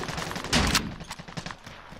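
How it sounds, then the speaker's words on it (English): Gunfire crackles in a Call of Duty: Modern Warfare match, a loud close burst followed by scattered quicker shots that fade off. "someone else was shooting at me"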